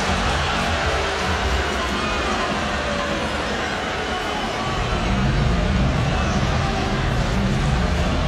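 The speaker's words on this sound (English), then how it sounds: "Now the crowd crowd's starting to get a little restless" Restless crowd in a basketball arena during a college game, Notre Dame against Louisville, a steady loud wash of murmuring and babble that swells slightly in the second half, with no distinct cheers.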